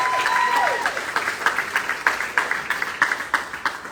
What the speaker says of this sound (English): Let's give them another amazing applause.